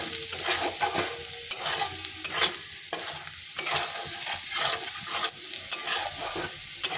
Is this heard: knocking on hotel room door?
no